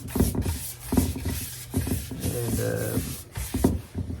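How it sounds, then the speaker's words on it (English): Steady rubbing and scraping of abrasive against a black walnut or Bradford pear wooden bowl, continuous for several seconds with brief pauses, close and moderately loud. "I'll give it a good sanding."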